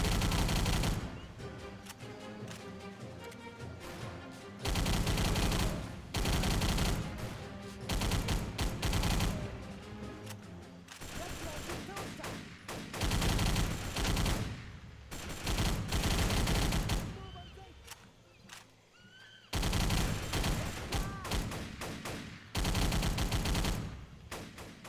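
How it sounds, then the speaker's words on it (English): Bursts of Type 100 submachine gun fire in the Pacific war game Battle for the Pacific, set on Leyte Island. Loud rapid volleys come in repeated bursts with short pauses between them, and no talking. "I'm going to let these enemies run into a bullet wall."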